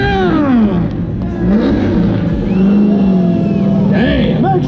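Car engine revving at the SEMA show in Las Vegas, loud rising and falling revs up close amid crowd noise and voices, with pitch sweeps as the throttle blips repeatedly.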